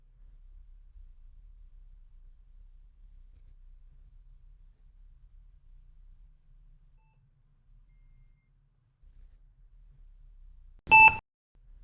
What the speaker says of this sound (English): Enter the first number you want called when the intercom button is pressed.